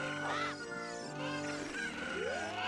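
Several Cucco chickens cluck and squawk in Zelda: Ocarina of Time on the Nintendo 64, their bright, bending calls repeating in quick bursts over a continuous tonal game music bed.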